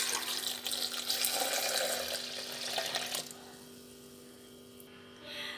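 Milk is poured from a glass into a blender with bananas and dates to make a milkshake, giving a steady, close liquid rush for about three seconds before it fades to quiet background hum.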